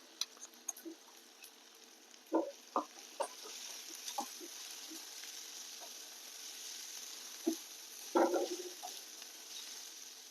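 Green paste of coconut, garlic, ginger and coriander sizzling in hot oil with onion and tomato, a steady soft frying hiss under occasional spoon clinks and stirring scrapes, with no voices.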